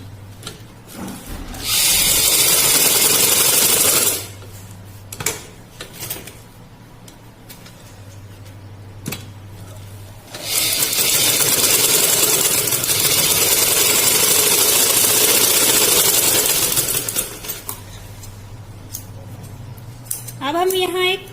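A sewing machine stitching salwar fabric, running in long loud bursts of rapid whirring with pauses between, plus a low hum and occasional clicks of handling.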